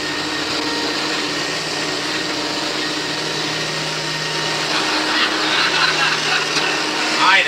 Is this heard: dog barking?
no